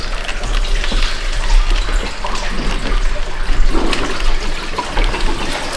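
Coolant draining from a Buick LeSabre hose into a bucket, a steady close rushing, splashing pour of liquid that continues throughout.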